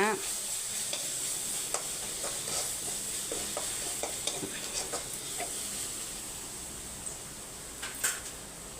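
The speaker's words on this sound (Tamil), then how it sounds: "நல்லா மிக்ஸ் பண்ணி விட்டுக்கோங்க" Food frying in a pan is stirred and mixed, with steady sizzling beneath scattered scraping and clicking spoon strokes, continuous and close throughout.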